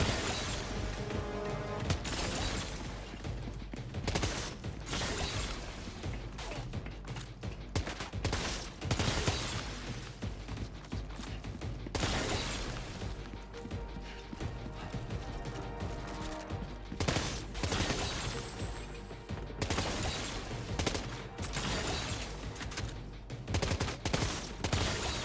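Dense, sustained gunfire in the Death Stranding 2 video game: rapid bursts and volleys of shots crowd together with crashes and booms, staying loud and continuous throughout with only brief dips between flurries.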